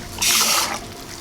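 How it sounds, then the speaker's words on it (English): Tap water running into a pot for rice and peas, a short close gush of about half a second that fades into quieter splashing. "I need to fill this up with water for 4 cups"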